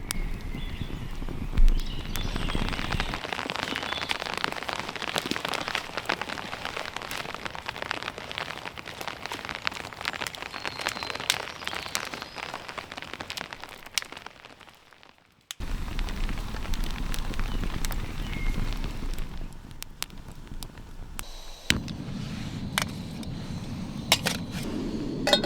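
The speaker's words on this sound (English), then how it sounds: "It is starting to drop rain now at the moment" Rain falling on a budget tent while camping alone in the woods, steady pattering across the fabric, with a brief drop-out midway and scattered louder drips.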